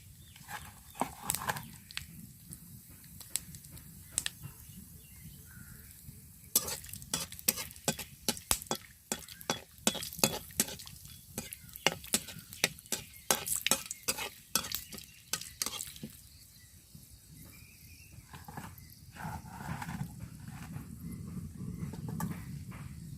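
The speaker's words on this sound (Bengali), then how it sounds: "তেল গরম হয়ে গেছে, এখন আমি দিয়ে দিচ্ছি এলাচ, লবঙ্গ, দারুচিনি।" Cardamom, cloves and cinnamon fry in hot oil with a soft, quiet sizzle, while rapid clattering stirs tap against the pan in bursts.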